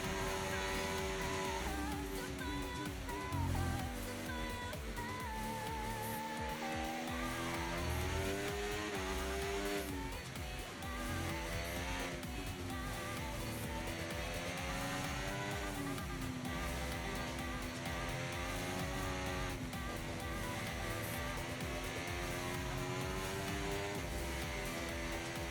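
Race car lapping in the F1 24 video game at a Japanese circuit: a continuous high engine whine rising and falling through gear changes, steady and close, with no voices.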